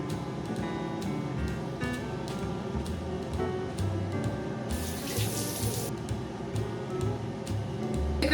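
Tap water runs steadily into a bathroom sink during an evening face-washing routine, a continuous close splashing flow with no talking.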